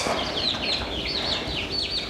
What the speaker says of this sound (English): Now we have 45 chickens in here.